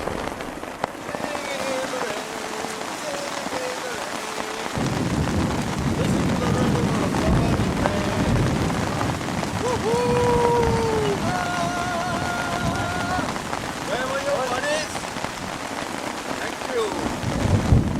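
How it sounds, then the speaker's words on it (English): Heavy rain falls steadily outdoors in the wilderness, a dense hiss with a spell of faint voice-like sound partway through. "It was about half an hour of pretty bad rain, torrential rain."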